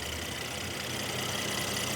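A Mercedes-AMG GLC 43 engine idling with its AMG Performance Exhaust, a steady, even rumble heard close and fairly loud, with no talking over it.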